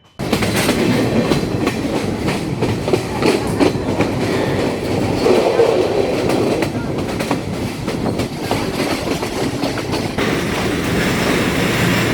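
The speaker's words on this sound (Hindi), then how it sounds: "ट्रेन रवाना हो चुकी है। शहर आहिस्ता आहिस्ता पीछे हो रहा है" A train pulls out of Kandy bound for Nuwara Eliya in Sri Lanka, with a loud, steady rumble and rhythmic clickety-clack of wheels on rails throughout, heard from on board.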